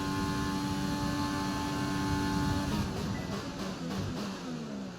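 A Formula One car in the F1 2020 racing game accelerating down a straight, its loud, whining engine note holding steady, then changing and pulsing as the car shifts gear, with no voices over it.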